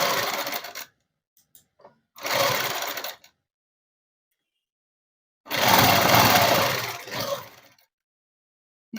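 A sewing machine stitches a net cloth dress, running in three separate bursts of steady mechanical whirring with silent pauses between, the last burst the longest and loudest.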